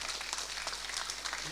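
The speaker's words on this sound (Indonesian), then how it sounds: "Tepuk tangan dong untuk RRI." Applause from an audience at an Indonesian cultural show, cheering for the RRI radio station, a brief, faint spatter of clapping.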